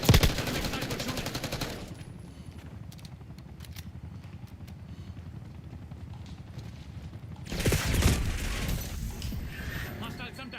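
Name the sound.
sniper gunfire in Call of Duty Black Ops 6 video game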